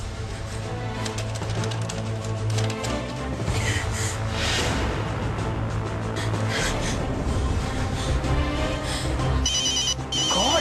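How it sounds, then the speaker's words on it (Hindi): A phone ringtone plays repeatedly in a household, a melodic electronic ring looping over several seconds at moderate loudness with faint background noise and no talking. "Aman, please pick up the phone."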